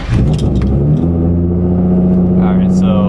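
A Nissan Z with two blown exhaust gaskets and a leaking coupler revs loudly up close, a rough droning engine note rising and holding steady with a raspy edge.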